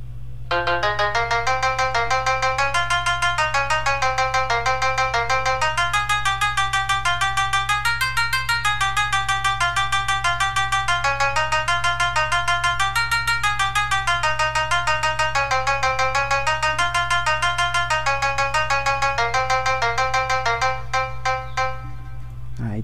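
A bright, synth-like plucked melody from the Lalayon plugin preset plays in an FL Studio project, a steady, loud lead line of rippling notes over a constant low bass drone, with no talking.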